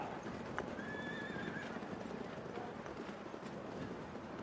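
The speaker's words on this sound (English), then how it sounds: "Listen to the horses, listen to communication." A horse whinnies briefly, faint and distant, over a steady outdoor background of soft rustling and thuds at a polo club, with horses in trailers.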